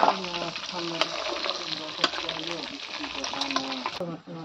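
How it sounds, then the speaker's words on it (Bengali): Chicken pieces frying in hot oil, a dense continuous sizzle with occasional sharper crackles and spatters, steady and close, with faint voices underneath. "তেলটা গরম হবে, তারপরে হলো আমি চিকেনটা দিয়ে দিব, চিকেন ফ্রাই করে ফেলবো।"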